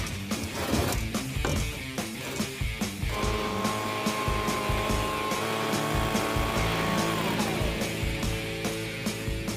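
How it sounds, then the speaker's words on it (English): A vacuum cleaner runs continuously while cleaning out a rusty old Pontiac Chieftain, its steady motor whine shifting as the nozzle moves around, with clunks and knocks from inside the car. "Okay, that's vacuumed."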